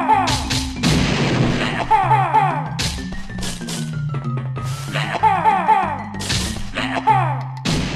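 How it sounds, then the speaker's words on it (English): Eggs fired to blow up enemies in Banjo-Kazooie, repeated punchy pops and booms mixed with bright game sound effects and music, loud and close. "so you can just shoot three eggs to blow those guys up"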